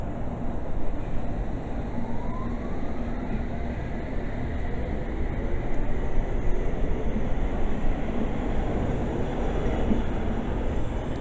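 A London Overground train on the Met Line rumbles past Northwick Park station as a steady broadband roar, fairly loud and continuous, with no voices.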